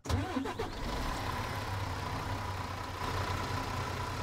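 A Quint fire truck engine in a firefighting video game cranks and starts with a short burst, then settles into a steady, low, droning idle that continues unbroken.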